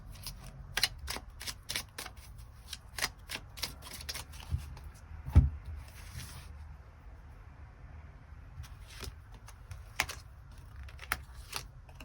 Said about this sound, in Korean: 새로운 인연의 가능성에 대해서도 추가 카드 뽑아보도록 하겠습니다